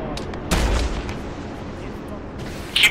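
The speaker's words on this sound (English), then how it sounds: "SAM missiles going off." SAM missiles firing in a military video game, a heavy booming launch with a rumbling tail, followed by distant crackling bursts and a sharp hiss near the end.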